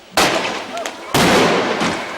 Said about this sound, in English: prepare for the explosions